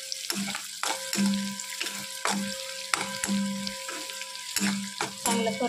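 Green chillies sautéing in a masala over a low gas flame, a close sizzle broken by repeated scraping stirs of a spoon against the pan at an uneven rhythm.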